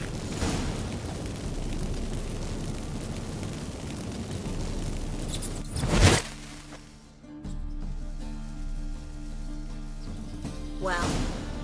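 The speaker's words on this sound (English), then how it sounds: "Get ready for some magic fireworks." Burning incense sets off magic fireworks in The Witcher 3, a sharp whooshing burst that crackles out over a rumbling game ambience, with a second fainter whoosh near the end.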